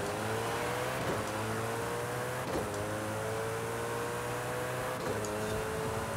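A drag car engine in Forza Horizon 5 revs hard through its gears, a loud continuous rising whine that drops sharply at each of three shifts before climbing again.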